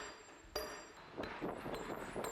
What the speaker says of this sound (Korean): 도드락 망치로 돌 표면을 더욱 곱게 다듬한다.